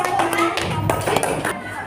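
Applause for a student group in a classroom: a short burst of scattered, uneven hand claps with voices speaking over them.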